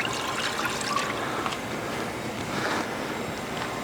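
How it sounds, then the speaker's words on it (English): Vegetable stock pours into a Lodge pan set over a campfire, giving a steady splashing, trickling wash of liquid close by for about four seconds with no talk. "Into the Lodge pan goes 2 cups of vegetable stock,"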